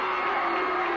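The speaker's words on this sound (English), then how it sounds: "It is going to be an awfully loud crowd tonight" Loud crowd at a high school basketball game for the Niles McKinley Red Dragons, a dense sustained roar of cheering and whooping filling the gym with no breaks.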